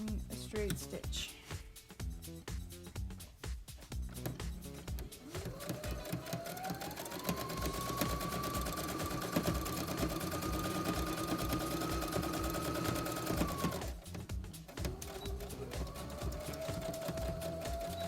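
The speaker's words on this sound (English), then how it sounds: "grab one edge, and feed it through using a straight stitch." A Brother CS7000i sewing machine runs a straight stitch joining two fabric pieces for a cowboy hat, a steady motor whir with rapid needle clatter that starts, holds, briefly stops and resumes.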